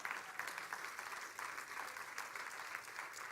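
A church congregation claps in praise, a steady, dense patter of many hands at moderate level, continuing without a break and with no voices on top.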